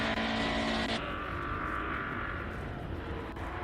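Classic 1970s–80s race cars at the Simola hill climb, a sustained engine roar heard from a distance with a broad steady drone and a slight pitch drop as a car moves away.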